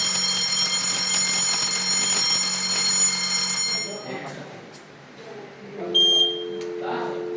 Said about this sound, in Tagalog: Smoke detector 2.